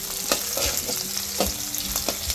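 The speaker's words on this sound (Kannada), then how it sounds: "ಈ ಥರ ಆಡಿಸ್ಕೊತಾನೆ ಇರಬೇಕು." Chillies and capsicum frying in a pan and being stirred, a steady close sizzle with a few soft scraping stir strokes cutting through, no talk.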